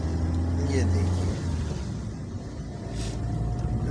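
Car engine and road noise from inside a car climbing a mountain road near Mussoorie, a steady rumble throughout with a person talking over it.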